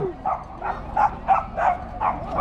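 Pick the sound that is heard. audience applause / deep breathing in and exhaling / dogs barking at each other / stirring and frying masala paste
dogs barking at each other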